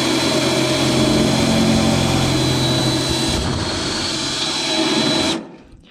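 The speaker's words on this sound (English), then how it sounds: "I'll probably do 2 spot welds in between," Sheet metal is plug welded, giving a loud, steady, close crackling hiss that runs unbroken for about five seconds and then cuts off abruptly.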